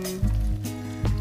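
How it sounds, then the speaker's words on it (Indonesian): Brulee bombs deep frying in hot oil over medium heat, giving a close, steady sizzle with a couple of brief louder bursts of bubbling, with no talking. "Kita goreng brulee boom hingga warnanya berubah menjadi coklat keemasan."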